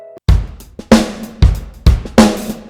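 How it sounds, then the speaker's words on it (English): A programmed drum pattern plays alone, loud and close, with punchy kick and snare hits landing at a steady, even rhythm about every half second, each hit with a short decaying tail, ready for compression in a music production session. "So what I've done is I've programmed a drum part"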